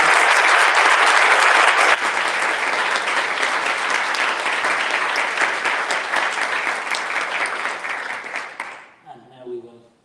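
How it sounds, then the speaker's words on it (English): An audience at a health forum applauds its speakers, loud sustained clapping that fades out near the end before a voice speaks briefly. "we just give a round of applause for our wonderful speakers"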